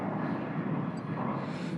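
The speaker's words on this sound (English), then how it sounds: "I think I did get that plane in the shot." Airplane passing overhead outdoors, a broad continuous engine roar and rumble, steady and fairly loud throughout without speech.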